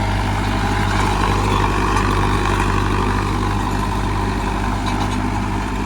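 An Arjun 605 tractor engine runs steadily with a 10-foot Shaktiman rotavator attached, a loud, even diesel drone with no breaks.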